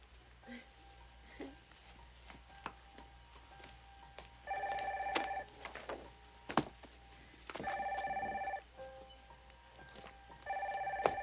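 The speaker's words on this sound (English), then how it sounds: "Could you get the phone" A telephone rings indoors in a 1990 soap opera scene, three bursts of a warbling bell spaced about three seconds apart, fairly clear over a quiet room with faint shuffling and brief sounds of movement.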